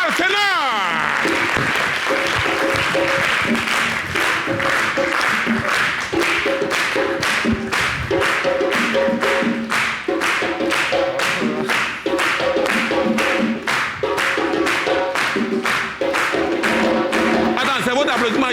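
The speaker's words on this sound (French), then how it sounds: "c'est votre applaudissement qui est là comme ça" An audience at a French TV variety show claps in a regular rhythmic beat, with music and a host's voice over the steady clapping.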